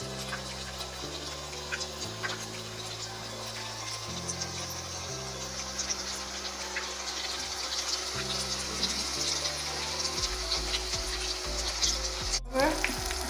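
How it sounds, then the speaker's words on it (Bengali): Cauliflower pakoras deep-fry in hot oil with a steady, dense sizzle and crackle that continues throughout, close and fairly loud, with no talking. "পাকোড়াগুলো ফুল ভেজে নিলাম"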